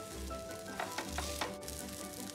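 Tomato rava omelette made from semolina and mixed flour, frying on its second side in a pan, giving a steady soft sizzle with faint scraping as it is pressed down, alone and fairly quiet.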